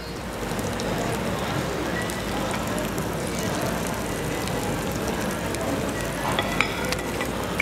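A steak sizzles steadily on a hot sizzler plate at a market restaurant, a dense, continuous hiss and crackle of frying that runs loud and close throughout, with faint voices underneath.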